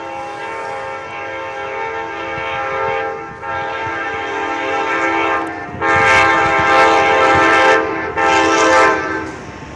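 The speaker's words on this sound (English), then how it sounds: "we got a train coming." An Amtrak passenger train, locomotive 162, rumbles past close by in Effingham, Illinois, wheels clattering over a loud steady drone, with a horn blaring in two strong blasts.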